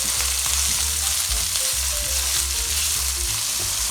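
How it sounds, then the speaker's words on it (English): Spring onions and ham fry in a pan with a steady, loud sizzle, and low scraping knocks come as they are stirred, with no talking. "Spring onions goes in, the ham, give it a stir."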